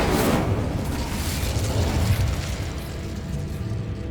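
The Incendio fire spell is cast in Hogwarts Legacy, giving a loud, roaring burst that starts strong and then settles into a sustained rumbling whoosh that slowly fades.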